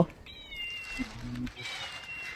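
A pressed toy cat gives electronic meows, a thin high meow early, a short low squeak in the middle and another meow near the end, fairly faint against room noise.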